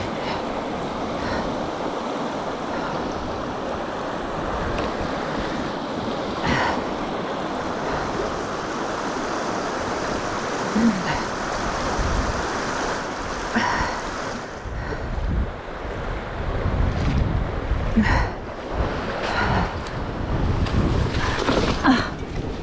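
Water rushes and splashes at a stream crossing on a gravel bikepacking route in the Ozarks, a broad continuous wash with occasional louder surges and some wind buffeting on the microphone, with no talking.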